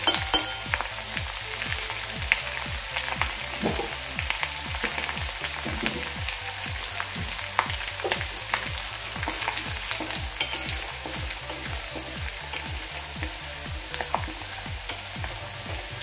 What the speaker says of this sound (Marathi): हिरवी मिरची आणि लसूणचा कच्चेपणा जाईपर्यंतच आपल्याला हे परतायचं आहे